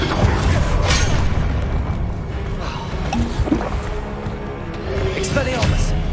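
Blasting-spell explosions in the Hogwarts Legacy video game: a couple of heavy booming bursts amid rumbling combat noise and game voices.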